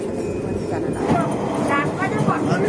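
A passenger train slowing into Haldwani station, with a low rumble of carriages and faint squeals of wheels or brakes running beneath close conversation.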